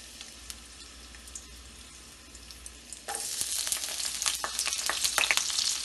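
Garlic hitting about two tablespoons of hot oil while making sauce, a quiet room tone that jumps into a loud, steady crackling sizzle partway through, with small scattered pops.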